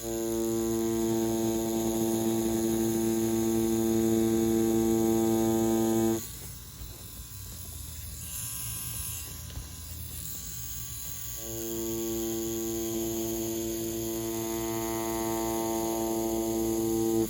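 An InkClaw Challenger rotary tattoo machine runs with a steady electric hum and buzz, dipping quieter in the middle before returning to its full tone.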